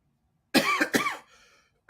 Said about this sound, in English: I'm coughing for real.